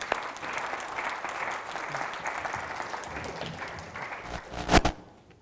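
Audience applause at a sports governance conference, a steady wash of many hands clapping for about four seconds, then a brief louder burst before fading out.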